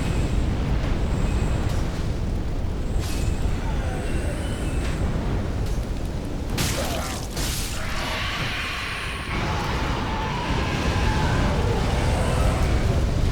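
Dragon fire roars in the Dark Souls III video game, a loud, continuous rushing blast that swells and churns for many seconds with a brief sharp flare in the middle.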